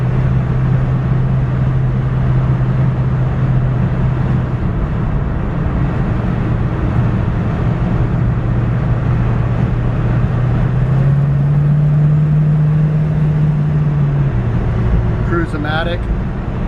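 A 1966 Ford Mustang convertible with a V8, power steering and a Cruise-o-matic automatic transmission cruises down a road on a cold Georgia morning, its engine a steady low drone with a tone that shifts slightly partway through.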